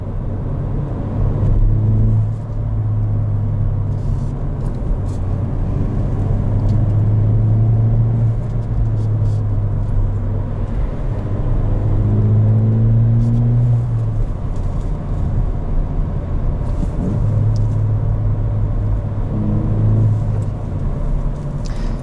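A 2019 Ford Fiesta ST on the move, heard from inside the cabin, with a steady low engine drone and road rumble that rises and falls gently through gear changes and varying throttle.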